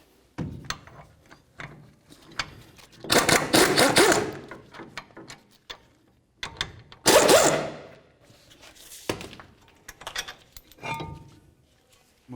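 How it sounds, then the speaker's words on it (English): A ratchet loosening caliper bracket bolts on the front brakes of a 2002-05 Dodge RAM pickup, heard as bursts of metallic clicking and rasping separated by quiet pauses, with occasional clinks of tools. "Now let's remove the caliper bracket by removing these two bolts."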